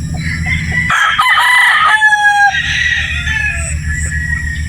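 A gray Sweater gamefowl rooster at a Batangas game farm crows loudly and close by, a long drawn-out call rising over low clucking and farmyard rumble.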